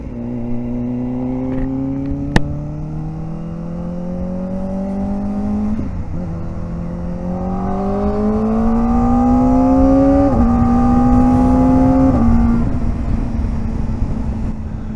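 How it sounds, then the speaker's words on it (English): A Toyota Camry TRD engine revs hard, its pitch climbing through several gear changes with a steady roar and wind noise. "Is that a TRD Camry going hard?"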